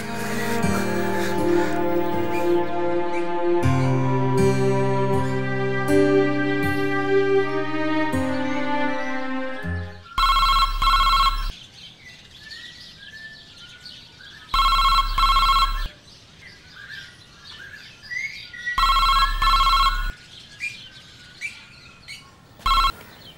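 A telephone rings in repeated loud bursts with short gaps between them, following a stretch of melodic music, in an indoor domestic scene from a television drama.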